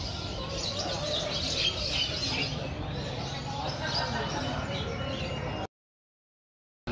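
Continuous canary chirping and warbling at a bird market, busy and bright, with a steady background hum and some faint voices, ending abruptly in silence.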